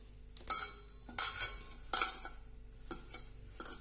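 A spoon works ground pigeon pea mixture and gram flour together in a pot, giving about four distinct scraping, knocking stirs in an uneven rhythm over a quiet background, with no talking.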